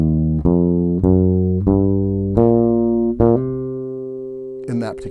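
A bass guitar plays a C blues scale, single sustained notes struck one after another at an even, unhurried pace, each ringing clearly and alone, with a brief scrape at the end.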